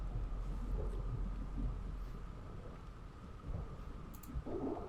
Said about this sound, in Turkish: yıldırım gök gürültülü sağanak yağışlı yağmur arasına denk geldik